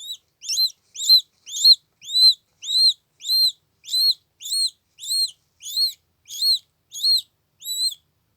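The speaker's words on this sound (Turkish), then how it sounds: "Et yediriyorum şu an. Küçük baykuşa." A young owl chick, with its eyes not yet open, gives a rapid run of about fourteen evenly spaced, high, thin chirping calls while being fed meat. The calls are clear and close, with no voices.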